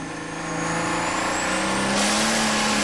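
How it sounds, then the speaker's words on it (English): A John Deere pulling tractor with a 640 cubic inch inline six-cylinder engine screams at a tractor pull, loud and close, its pitch climbing steadily and surging near the end. "Listen to the John Deere scream. You're listening to 640 cubic inches of inline 6-cylinder power."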